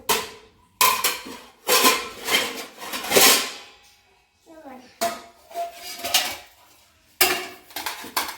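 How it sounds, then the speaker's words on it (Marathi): Washed steel dishes and utensils are handled in a home kitchen. Close, loud bursts of clanking and clattering come in uneven clusters, separated by short quiet gaps. "बस घासलेली भांडी आहेत ती ठेव"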